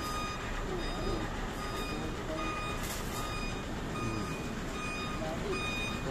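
Big truck reversing, its warning beeper sounding in a regular repeating pattern over a dense, noisy outdoor work background, moderately distant, with voices faintly present.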